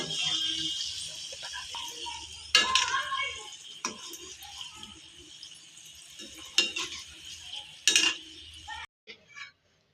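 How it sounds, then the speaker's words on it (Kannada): Samosas go into hot oil to deep-fry, a soft sizzle with sharp clinks and scrapes of a utensil against the pan, then near silence at the end. "ಈಗ ಇವನ್ನ ಕರಿತೇನೆ. ಈಗ ಎಣ್ಣೆ ಕಾದಿದೆ, ಹಾಕೋತೀನಿ."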